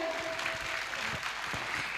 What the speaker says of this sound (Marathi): त्यांच्यासाठी जोरदार टाळ्या होऊ दे एकदा